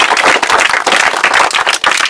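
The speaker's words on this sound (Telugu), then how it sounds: "వీళ్ళ కోసం కూడా చప్పట్లు కొట్టాలా మీరు" Audience applause for teachers at a school gathering honouring a village schoolgirl, a dense, steady burst of many hands clapping close up for about two seconds.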